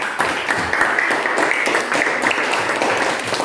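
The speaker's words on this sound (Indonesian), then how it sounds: "Tepuk tangan dulu buat Dede." Students in a classroom clap for a classmate, a lively burst of many hands with quick uneven slaps running continuously at close range.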